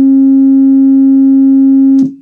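A steady low sine-wave test tone plays through a small 3D-printed mini tuba horn, loud and unbroken with a faint regular pulsing, then cut off abruptly near the end by a brief handling noise.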